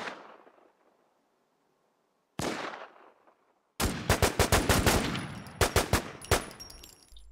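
Gunfire in the video game War Z: a single loud shot with a long decay, another shot, then a rapid burst of sharp automatic fire in an uneven rhythm.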